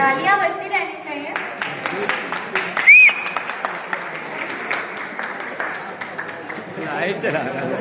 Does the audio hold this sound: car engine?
no